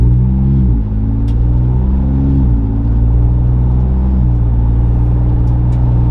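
A Ford Bronco with an AWE off-road exhaust pulls away. Its loud, deep exhaust drone rises steadily and dips briefly at each of two or three gear shifts, and nobody speaks.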